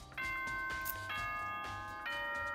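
A repeating chime plays in the game Danganronpa: Trigger Happy Havoc, with three bright tonal bell phrases, each ringing with clear sustained overtones and starting about a second apart. It is moderately loud and has no talk over it.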